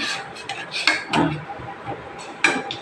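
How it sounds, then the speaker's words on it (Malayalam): A spoon stirs a hibiscus drink in a metal pot, giving several close clinks and scrapes against the pot in uneven bursts, with no talk. "ഒന്ന് ഇളക്കി കൊടുക്കടി."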